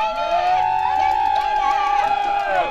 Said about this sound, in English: Some excitement here in the crowd for the Red squad.